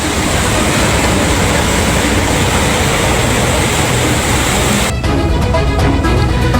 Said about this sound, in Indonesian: kereta api pun sudah bisa melintas perlahan